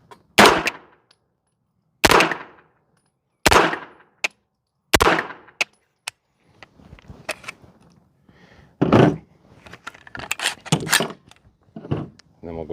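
Unsuppressed short-barrel 9mm pistol firing four loud, sharp shots at roughly even intervals, followed by more distant bangs, clatter and talking.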